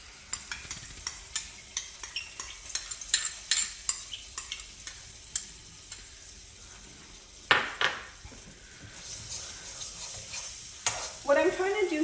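Tomato paste sautés in oil while a utensil stirs it, giving a close, rhythmic series of scrapes and taps over a faint sizzle, with a louder clatter near the end.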